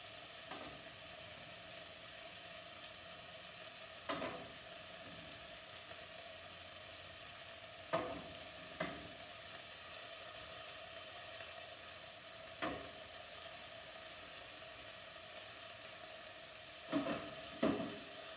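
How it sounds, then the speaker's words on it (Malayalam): Masala sizzles quietly in a pan for lotus seed curry, a steady low hiss broken by a few scraping stirs of the spoon spaced several seconds apart, with no voices. "ഒന്ന് നന്നായിട്ട് ഇളക്കി യോജിപ്പിക്കുക"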